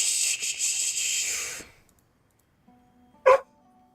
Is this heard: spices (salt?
no